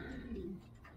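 A racing pigeon giving a brief, soft, low coo, faint and close, with no talk.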